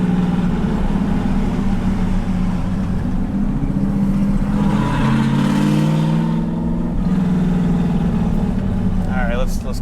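A loud 1972 Dodge Charger with a 5.9L Magnum V8 drives close by, its deep rumbling exhaust holding steady then swelling as the engine revs up and settles back; a voice talks over the engine.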